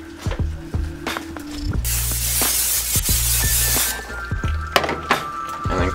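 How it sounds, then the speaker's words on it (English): Cooking spray hisses onto a 9 by 13 baking dish in a kitchen, one long burst of about two seconds with a shorter spurt after it, mixed with dull thunks of the dish and utensils. "throw down some cooking spray on it."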